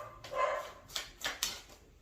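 Dogs bark indoors, a few short yips and barks at moderate distance, spaced irregularly over about two seconds with quiet gaps between.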